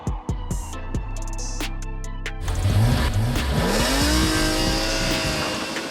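A BMW E46 M3 engine, first blipped in a few short, sharp revs, then pulled into a louder run that rises and falls in pitch. It sounds close and carries on without any talk.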